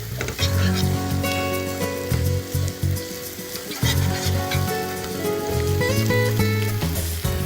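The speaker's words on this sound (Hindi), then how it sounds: "थोड़ा सा कटा हुआ अदरक, हल्का सा चलाएंगे इसे और अदरक को हल्का फ्राई करेंगे" Chopped ginger fries in a hot pan with a steady, loud sizzle and occasional stirring scrapes, while musical tones run underneath throughout.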